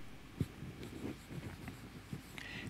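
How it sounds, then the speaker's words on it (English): A pen scratches across paper up close while a title is written by hand, giving a series of soft, irregular strokes and taps for a few seconds. "First of all, you write here the title,"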